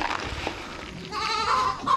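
Young goats bleat nearby on a farm, with a few short, wavering cries that grow stronger toward the end over faint background rustle.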